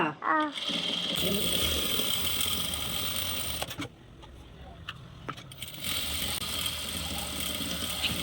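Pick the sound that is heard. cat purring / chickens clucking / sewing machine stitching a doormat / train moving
sewing machine stitching a doormat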